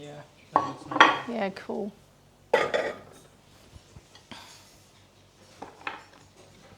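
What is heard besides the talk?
grabbing a plate from the dishes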